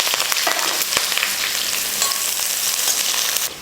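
A large onion and two green chilies fry in hot oil, giving a loud, steady sizzle with a few sharp crackles, then dropping off abruptly near the end, with no voices.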